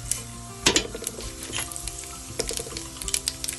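Mustard seeds, urad dal, chana dal and fennel frying in hot oil make a steady close sizzle, broken by sharp popping crackles and a few clinks of a utensil against the pan.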